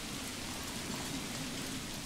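Steady rain falling in the medieval city-building game Manor Lords, a constant even hiss of downpour with no other sounds or voices.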